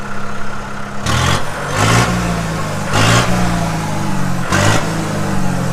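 A Kubota MU 5501 tractor diesel engine with a custom exhaust pipe and stock turbo setup idles, then revs hard in four short bursts, loud and close, rumbling back to idle between each.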